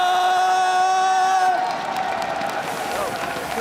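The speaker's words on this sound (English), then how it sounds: "we hear a huge chant in the crowd" Spectators at the Clash Royale World Finals esports event cheer, whoop and clap as a large crowd roar, with a sustained chant-like tone at first that gives way to broad applause and cheering.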